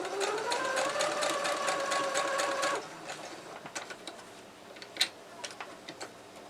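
Sewing machine stitching a quilt seam, a close, steady mechanical whir with fast needle ticking for about three seconds, then stopping, followed by scattered soft clicks and fabric handling.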